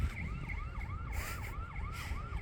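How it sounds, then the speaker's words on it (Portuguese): A wailing siren sweeps steadily up and down over constant traffic and road rumble near a desert beach road, heard from a distance rather than close by. "Aqui tem uma... sei lá, uma sirene, né, tocando."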